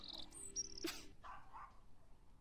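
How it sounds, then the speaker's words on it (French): A single short dog bark rings out, followed by faint whining or yipping sounds against a quiet room background. "Pourquoi est-ce que Jake fait que d'aboyer"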